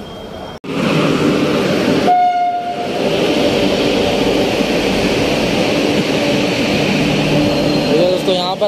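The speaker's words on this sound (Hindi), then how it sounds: "ट्रेन को आने दीजिए, 6 नंबर पर आने वाली है ट्रेन।" Netaji Express (Kalka Howrah Mail) pulling into platform 6 at a station, a loud continuous rumble of wheels and carriages close by, with a sustained horn blast near the start and a brief squeal of brakes near the end.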